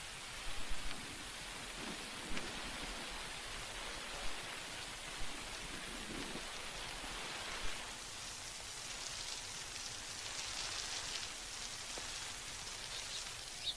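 Steady desert rain hisses down in a dense wash of sound, with occasional louder drops tapping nearby.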